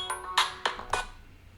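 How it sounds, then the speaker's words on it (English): A phone ringtone sounds in a short series of four bright chiming tones, fairly close and clear, with a quieter tail fading out afterward and no talking over it. "Sorry about the phone."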